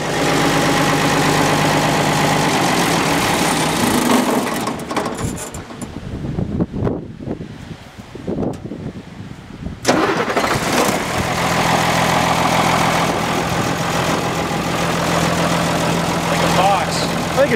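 A used-motor-oil-fuelled M35A2 military truck engine runs at idle with a steady, loud diesel drone, briefly dipping and roughening in the middle before settling back into an even rumble.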